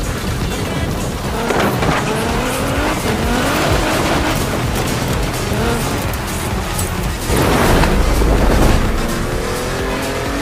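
A 1000HP Nissan GT-R in Forza Horizon 4 roars loudly and steadily up close, its engine note rising and falling through gear changes, with tire squeal and a brief surge of louder road noise.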